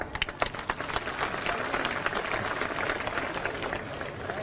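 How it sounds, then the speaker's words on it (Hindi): A large crowd at a political rally breaks into steady, continuous applause, a dense wash of clapping at moderate volume throughout. "एक बार जोरदार तालियां"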